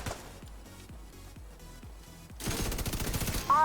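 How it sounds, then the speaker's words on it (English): Rapid automatic gunfire in The Division 2, an enemy blind firing from cover: a run of evenly spaced shots at moderate distance, then a louder, denser burst of nearby fire near the end. "Oh, of course he's gonna blind fire me."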